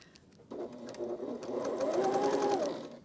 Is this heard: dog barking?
no